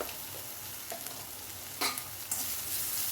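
Shallots sauté in a pan with salt and curry leaves, giving a soft, continuous sizzle. A few sharper scrapes of stirring cut through, and the sound picks up slightly near the end, with no talking.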